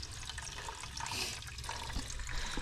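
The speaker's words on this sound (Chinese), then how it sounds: "水龙头都不用开了，直接就有水" Tap water runs steadily from an outdoor faucet near a well in Tibet, a continuous, fairly quiet splashing flow without talk.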